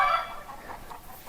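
Chickens cluck in a series of short, moderately loud calls a little way off outdoors near a cabin, with no talking over them.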